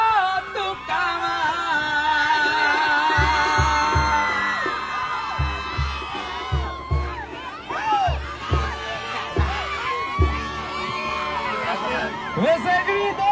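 A large crowd of fans yells and whoops loudly over a pounding, rhythmic beat at a party bus performance in Los Angeles, with voices rising and falling in excited bursts.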